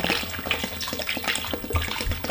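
Clean water pours steadily into a pan over chicken pieces, mirepoix vegetables and seasoning for stock, a continuous close splashing gush with small bursts and gurgles, heard alone without voices.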